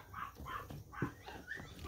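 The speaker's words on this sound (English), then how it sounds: "you're gonna hear the barking, insanity barking of these dogs" Several dogs at a home bark, yip and whimper in quick overlapping bursts, a busy excited chorus heard fairly close with no talking.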